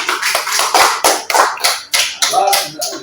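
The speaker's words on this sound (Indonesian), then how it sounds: "Tepuk tangan." A group of children claps their hands during an Islamic lesson in an Indonesian classroom. The applause is quick and uneven, with bursts of clapping mixed with voices.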